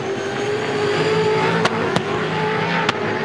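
V8 Supercars race car engines on track at the 2011 Tasmania Challenge, a sustained droning whine with steady tonal pitch and a few sharp clicks or pops, continuous and fairly loud.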